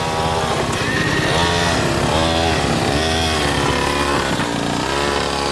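Mini motorbike engine at full throttle during a race, a loud, sustained buzzing rev that rises and falls in pitch as the rider works the throttle, close to the listener.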